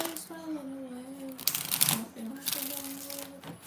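Tarot cards being shuffled in quick, papery riffling bursts, fairly close, under a steady voice with a tonal background.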